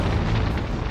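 A dense, rumbling explosion effect standing in for a solar flare on the sun, a continuous loud roaring burst filling the whole moment without voices.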